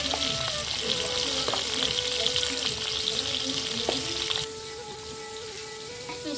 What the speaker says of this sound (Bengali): তেলটা গরম হয়ে গেছে, এখন দেওয়া দিব মাছ।